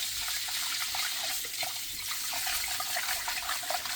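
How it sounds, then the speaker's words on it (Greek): Cold tap water pouring steadily into a bowl of sushi rice being washed, a continuous close splashing hiss with small irregular bubbling spatters throughout. "Εδώ, βάζουμε και άλλο νερό."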